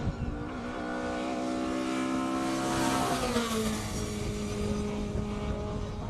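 Classic cars at the Cape Town Speed Classic hill climb, an engine note rising and sweeping past fairly close with a strong harmonic drone, the pitch bending down as the car moves away.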